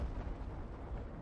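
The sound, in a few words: V1 rocket explosion in Battlefield 5 video game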